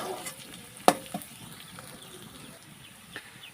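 Onions frying with bay leaf in a pan, a soft steady sizzle with a sharp clack of stirring near the start and a few lighter knocks later, close and fairly quiet with no voices.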